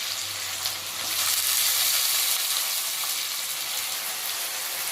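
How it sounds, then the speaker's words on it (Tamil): Eggplant fries with curry leaves in hot oil, giving a dense, steady hiss that fills the whole span, close and loud with no pauses. "இந்த எண்ணெயிலே நல்லா இது வதங்கட்டும்."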